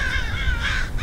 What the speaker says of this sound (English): A lot of crows out here too.